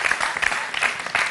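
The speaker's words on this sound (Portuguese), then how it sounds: "Uma salva de palmas, faz favor!" A brief burst of audience applause at a live show, with steady clapping from a crowd filling the short moment.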